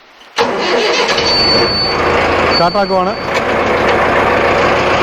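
A 4x4 farm tractor's engine cranks and catches abruptly, then runs loud and steady at close range with a brief rough patch as it settles into idle.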